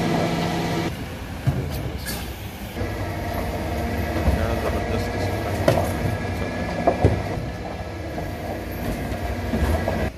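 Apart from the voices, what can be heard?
garbage collection truck moving along collecting leaves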